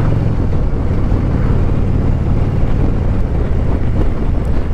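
A 2021 Harley-Davidson Street Glide Special cruising at about 1500 rpm, a low, steady engine rumble mixed with wind rush, continuous and close with no talking.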